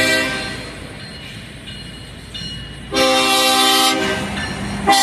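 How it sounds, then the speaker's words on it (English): A train carrying a maintenance-of-way crew rolls past slowly on city track, its horn sounding in sustained harmonic blasts that swell louder near the end over a steady rumble of wheels and cars. "we got a train coming with the M.O.W crew"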